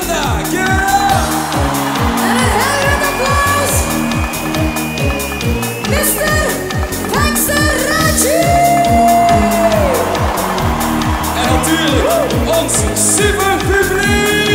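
Loud arena crowd at a Sportpaleis show cheering and applauding continuously, a dense roaring wash with whoops rising above it, joined by a pulsing music beat underneath throughout.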